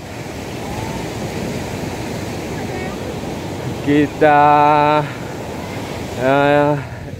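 Surf at Kayu Menang beach in Aceh Singkil, a steady broad wash of breaking waves and wind, with a person speaking briefly over it near the end.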